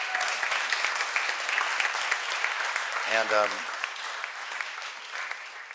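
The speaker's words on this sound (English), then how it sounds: "We have to give her an applause." An audience applauds at an award ceremony, dense continuous clapping filling the room at moderate volume, with a single spoken word cutting in briefly midway.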